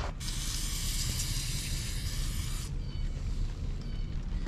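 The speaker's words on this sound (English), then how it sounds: "let me just pull this off and spray this down a little more with degreaser" Degreaser sprayed in a steady, close hissing burst onto a Husqvarna leaf blower, cutting off after a few seconds and leaving a softer, fainter hiss and rustle.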